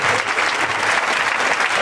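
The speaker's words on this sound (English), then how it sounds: "can we give a very nice round of applause for Miss Ursula and Mr. Derek, Mr. Walker" An audience gives a round of applause, dense, loud and steady clapping from a crowd with no break.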